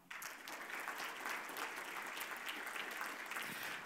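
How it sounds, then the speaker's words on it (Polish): An audience at a Polish history competition awards ceremony breaks into dense, sustained applause, many hands clapping evenly throughout. "Ogromne brawa."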